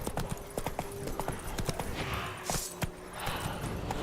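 Hooves of Roach, the horse in The Witcher 3, clip-clopping at a walk: a steady close run of crisp, evenly spaced hoofbeats over a faint ambient bed, with a short soft breathy swell partway through.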